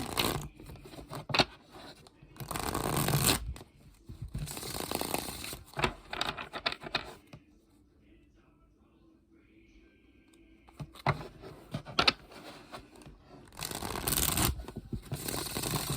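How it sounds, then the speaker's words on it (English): Thin playing cards, a whole deck shuffled together, riffle in several loud papery bursts with quiet gaps between them; no talking. "I always shuffle with usually half the deck because cards are thick, but these aren't thick"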